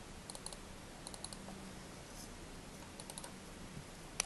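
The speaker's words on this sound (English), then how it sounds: "let's type this" Quiet, close typing on a computer keyboard, with scattered light key clicks in short irregular bursts over a soft background hiss.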